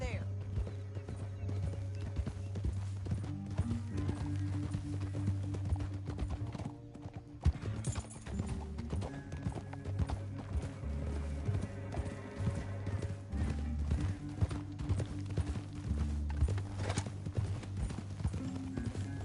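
Steady clip-clop of horse hooves at a trotting rhythm runs throughout in the video game Red Dead Redemption 2, with a music bed and occasional voices over it, plus a brief neigh.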